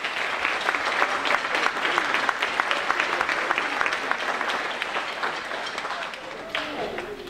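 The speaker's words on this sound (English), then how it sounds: "let's give them a round of applause" An audience at a middle school spring band concert gives a round of applause, steady mid-distance clapping from a seated crowd that gradually thins toward the end with a few voices underneath.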